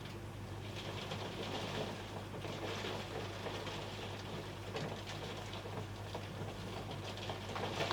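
Heavy rain falls outside, a steady, dense patter against surfaces that holds at an even, moderate level for the whole stretch, with no talk over it.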